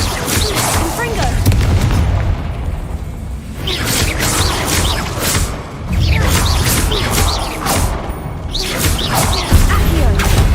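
Confringo blast spells in Hogwarts Legacy, repeated heavy booming bursts and crashes over a dense, loud stretch of game combat.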